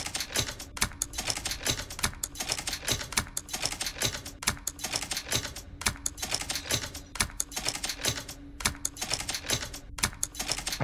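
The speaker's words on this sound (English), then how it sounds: "I'm just like randomly clicking just to see if I can figure this out randomly." Rapid, uneven clicking from a computer mouse runs continuously during play of the puzzle game Boxes: Lost Fragments. The sharp close clicks come in bursts with short gaps, and no voice is heard.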